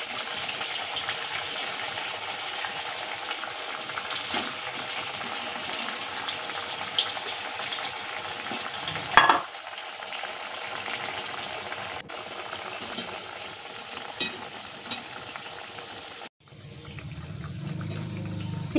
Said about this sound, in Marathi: आता तेल पण गरम झालेलं आहे,